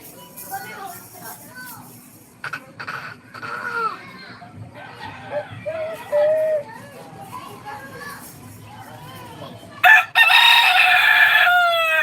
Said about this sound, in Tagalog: Sabi ng manok na.